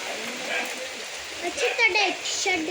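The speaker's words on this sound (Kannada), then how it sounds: "ಮಳೆನೂ ಬಂತು ಕರೆಕ್ಟ್ ಟೈಮಿಗೆ" Steady rain patters and hisses while voices talk over it, rising a little louder in the second half.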